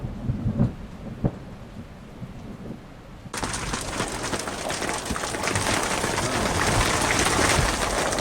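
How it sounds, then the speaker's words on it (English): A thunderstorm in Utah: low rumbling thunder over rain, then a sudden burst of heavy rain that roars steadily and grows slightly louder, close by and with no talk. "Look out there. We're getting hammered by the storm."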